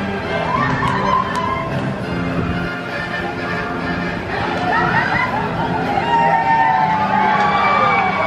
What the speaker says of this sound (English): That is the sounds of excited screams for people who got the very, very rare Rise of the Resistance boarding group